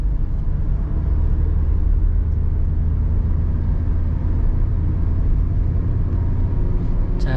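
Inside a Suzuki Ertiga cruising in fifth gear on a smooth road near the Ngawi-Sragen border, a steady low engine and road rumble holds evenly throughout.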